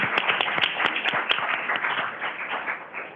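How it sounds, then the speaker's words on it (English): Audience clapping after a lecture, a fairly small group applauding steadily with a few sharp individual claps standing out early, then tapering slightly toward the end. "let's give Matt a round of applause"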